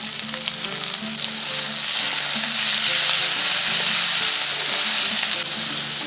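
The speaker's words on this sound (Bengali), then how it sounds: "টমেটোটাকে একটু ভেজে নিচ্ছি যাতে টমেটোর কাঁচা গন্ধটা চলে যায় আর নরমও হয়ে যায়।" Chopped tomato and onion fry in a pan with a steady, close sizzle. A few light stirring clicks come early, and no one speaks.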